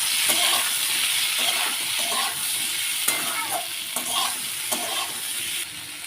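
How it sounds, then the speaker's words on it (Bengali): Mixed fruits fry briefly in a pan with very little oil for a sweet chutney. A continuous sizzle sits under repeated stirring scrapes and light taps from a utensil, with no speech. "ফলগুলো সব একসাথে দিয়ে দেবো অল্প একটু ভেজে নেব"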